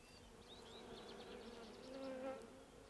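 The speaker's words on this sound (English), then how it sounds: "Bees are certainly using the hive." A steady, close buzzing of many bees around a hive, a continuous humming drone with individual insects whining past now and then.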